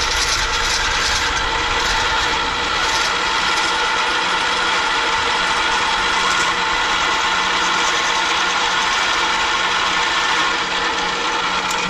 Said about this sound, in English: So that's a drill press.